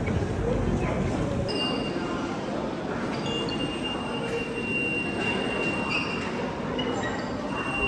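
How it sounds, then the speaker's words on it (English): Rumbling rail interior of a short train ride to Chongzuo in China, a steady dense low roar of wheels and carriage with faint high squeals, constant and close throughout. "That was the shortest train ride we ever took in China."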